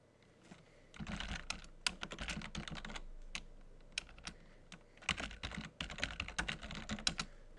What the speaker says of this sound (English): So what I'm going to type in is